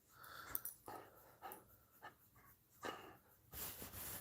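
A dog scratches itself and pants in short bursts, with a few sharp rustling scrapes and breathy puffs close by, fairly quiet overall, with a louder burst of scratching near the end.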